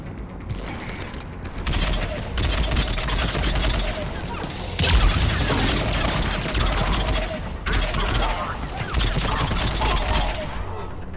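Mortar fire and battle noise in the Mass Effect 3 video game, a dense continuous barrage of booms and crackling explosions filling the whole stretch, loud and close with no pause.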